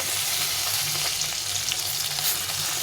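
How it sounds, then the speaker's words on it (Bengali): Bata fish frying in hot oil, giving a steady, close, dense sizzle with soft crackles throughout and no voices. "চেপে চেপে মাছগুলোকে ভেজে নিয়েছি"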